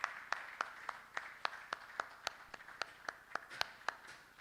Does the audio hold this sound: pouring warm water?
no